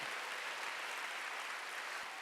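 A church congregation at a Wednesday worship service applauds together, a quiet, steady wash of many hands clapping at once, heard alone without speech.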